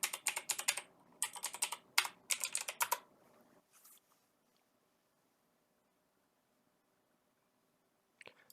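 Someone types a password on a computer keyboard while restarting a Windows Server 2016 machine, producing rapid close key clatter in several quick bursts over about three seconds, followed by near silence and one last faint keystroke.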